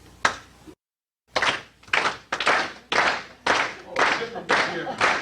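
Audience at a comedy club show clapping along in time, a series of loud, evenly spaced claps after a short silent gap, each one a sharp burst.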